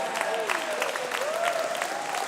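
Audience at a regional swimming championship session clapping for the referees and technical officials, steady crowd applause with no music, a voice faintly carrying over it.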